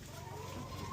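Backyard laying hens clucking softly, a short burst of low throaty chicken sounds heard faint and close in a quiet setting.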